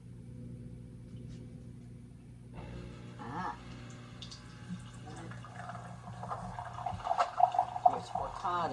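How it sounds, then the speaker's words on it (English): A Nespresso Vertuo machine brewing coffee from a pod: a low, steady mechanical hum, then a louder gurgling trickle of liquid that builds toward the end. "It's starting to drip."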